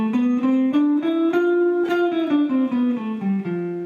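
Lydian mode scale played on a melodic instrument from F up to F, a steady run of about ten sustained notes with clean harmonic tones, loud and alone.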